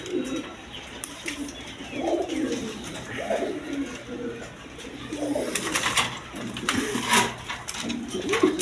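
Pigeons coo repeatedly in low, rolling bursts from nearby birds being shown for sale, a steady run of overlapping calls with faint background clatter.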